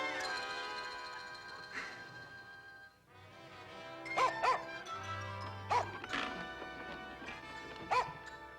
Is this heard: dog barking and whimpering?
yes